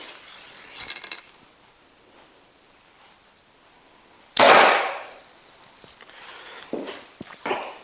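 An archer standing on a balance disc shoots an arrow from a bow, giving one sharp, close release snap that fades quickly. Faint scuffs and small clicks come before and after it in an otherwise quiet space.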